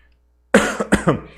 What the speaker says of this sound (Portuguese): eu vou ficar assim tossindo, viu?